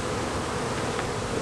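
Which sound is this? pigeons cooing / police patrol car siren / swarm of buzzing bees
swarm of buzzing bees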